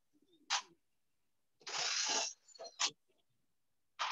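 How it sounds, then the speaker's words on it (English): A drill boring through a wooden dowel during woodworking, with short bursts of whirring, the longest lasting about half a second, separated by quiet pauses. "I'm just drilling through a dowel, just wood."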